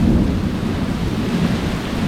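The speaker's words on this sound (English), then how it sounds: "We have a hell of a downpour coming down right now." A heavy, windy downpour roars steadily and loudly, with a deep continuous rumble of thunder underneath and no talking.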